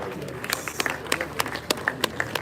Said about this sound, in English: we give a round of applause for them